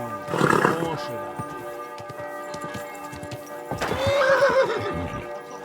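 A horse whinnies twice, loud and close, with a background hum and scattered knocks between the calls; the first neigh comes near the start and a longer one arrives toward the end.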